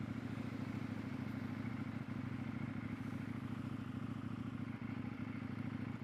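A 2022 KTM 890 Duke motorcycle cruising at steady throttle, a continuous low engine drone mixed with wind rush, heard from the rider's position with no talking.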